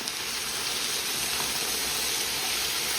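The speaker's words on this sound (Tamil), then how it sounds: "இப்போ நான் வந்து இதோட முதல் பால் வந்து சேர்க்கிறேன்" Coconut milk pours into a sautéed prawn curry gravy in a hot pan, giving an even, steady hiss and sizzle that holds without a break.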